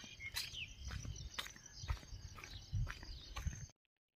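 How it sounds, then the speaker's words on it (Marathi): Birds chirp at dawn in short high tweets and a few whistled calls, fairly faint over a low rumbling background with some soft thuds, before the sound cuts out abruptly. "पक्ष्यांचा आवाज."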